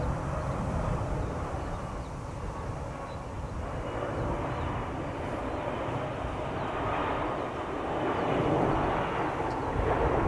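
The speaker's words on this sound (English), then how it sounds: "Silkway Cargo is descending." Silkway cargo airplane descending toward a runway at Schiphol Airport, a steady broadband engine roar from a distance, holding constant and swelling slightly near the end, with no talk over it.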